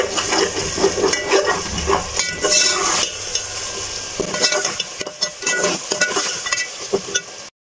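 Spice masala with green chillies and turmeric is stirred and fried in a pan, giving a continuous sizzle broken by scraping stirring strokes, near and moderately loud with no talking.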